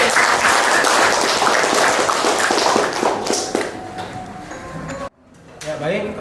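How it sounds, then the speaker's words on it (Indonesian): Applause from a classroom group for the first team after its presentation, dense clapping filling the room for about five seconds before breaking off, then a few scattered claps and faint voices. "Tepuk tangan untuk kelompok"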